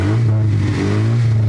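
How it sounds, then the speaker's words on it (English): A rough-running Honda Civic engine held at idle and given a few light revs, a steady low drone with rising harmonics during the short blips, close up and alone. "I guess I can give it some baby revs if you guys want to hear it."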